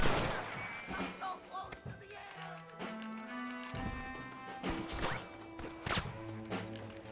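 Gunshots in the video game Red Dead Redemption, several sharp cracks scattered among hoofbeats, music and other game noise, moderately loud with no clear speech.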